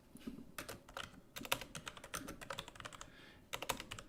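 Quick, irregular clacking of a computer keyboard as someone types in an office setting, with brief pauses between bursts of keystrokes. The sound is close and fairly clear, with no voices.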